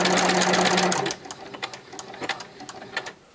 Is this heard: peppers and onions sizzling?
no